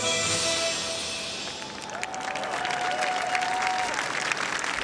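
A large lunchtime crowd of about 5,000 applauding at a Daley Plaza celebration in Chicago, with dense sustained clapping and a faint whistle-like tone, heard from a moderate distance.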